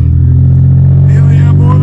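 A 1992 Buick LeSabre's 3800 engine and exhaust rumble steadily up close with a deep, even drone, a voice briefly heard over it.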